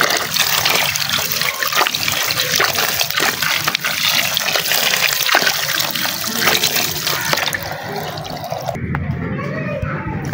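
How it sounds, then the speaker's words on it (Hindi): Water is poured into mud in a tub, a loud continuous splashing gush that runs steadily for several seconds before easing at the end, with children's voices faintly in the background. "अब इसमें हम कर देते हैं अच्छा खासा जो है वो पानी ऐड कर देते हैं अपनी मड में"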